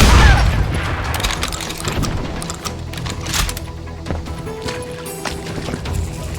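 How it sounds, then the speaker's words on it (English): Gunfire rings out in a Wild West street shootout in the game Call of Juarez: Gunslinger, with loud, overlapping shots and booms at first that settle into scattered reports and echoing background clatter. "They're shooting in the street!"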